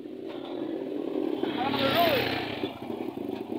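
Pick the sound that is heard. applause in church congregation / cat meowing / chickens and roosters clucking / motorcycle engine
motorcycle engine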